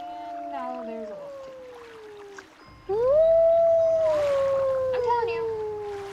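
A wolf howls in the Nancy Drew game The White Wolf of Icicle Lake, one long sustained wavering howl that slides downward and then rises again, loud and close, with a speaking voice briefly over it.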